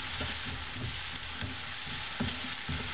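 Onions with salt fry steadily in a pan for poha, giving a continuous close sizzle with small crackling bursts throughout and no talking.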